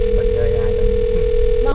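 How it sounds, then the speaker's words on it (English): A steady telephone dial tone hums continuously at a loud, even level. "I'm going to dial her phone number right now"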